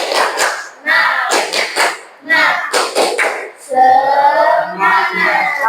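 Schoolchildren in a classroom perform a clapping chant, bursts of rhythmic hand claps alternating with loud voices chanting together, ending on a longer held shout.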